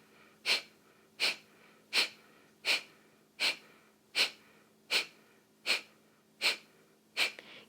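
Forceful breathing exhales during a yoga exercise, about ten sharp, even bursts of breath pushed out in a steady rhythm, close and clear against a quiet background with no talking.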